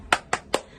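Three quick, evenly spaced claps from children doing a rhythmic spirit clap at a Sunday school service, sharp and close, with no voices in between.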